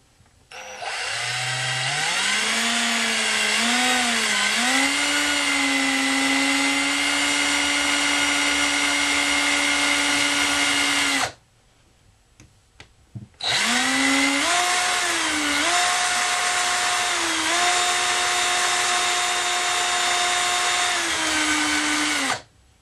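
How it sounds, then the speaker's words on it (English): A power drill bores out the center of a broken plastic RC car part, its motor whine steady and close, rising in pitch as it spins up, running about ten seconds, pausing briefly, then drilling again for another ten. "start drilling out just a little bit of this center"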